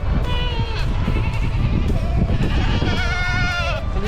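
Goats at a goat farm bleating repeatedly in wavering, overlapping calls, close and loud over a steady farmyard background.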